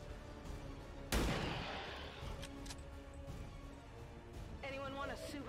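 A single sharp gunshot bursts out in the turn-based game XCOM 2, followed by a fading rumble and softer game effects, heard over low background music.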